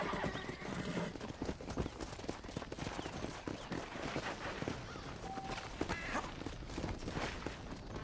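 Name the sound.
horse hooves and neighing in video game Red Dead Redemption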